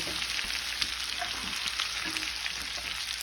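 Chopped onion, carrot, tomato, beans, potato and green chilli frying in a pan with salt and turmeric, a steady hissing sizzle with faint stirring clicks, close and continuous, without talk.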